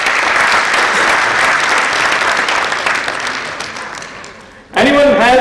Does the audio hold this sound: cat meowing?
no